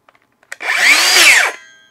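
DeWALT DCS570 20V MAX XR cordless circular saw with a freshly installed blade, spun up in a test run: a few small clicks, then a loud steady whine for about a second before it winds down.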